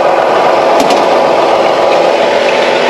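A tractor engine runs steadily close by at a constant idle, a loud continuous mechanical drone with a couple of faint clicks and no talking.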